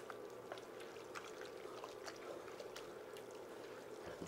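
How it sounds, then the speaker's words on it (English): Jarred pasta sauce pouring onto goulash meat in a home kitchen, a soft continuous wet glugging stream, faint and close with small splashy ticks. "I'm actually going to pour this in until it gets to the consistency that I want."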